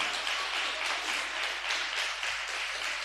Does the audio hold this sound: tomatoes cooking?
no